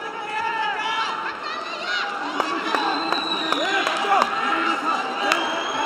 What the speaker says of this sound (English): Crowd appreciative of these two gladiators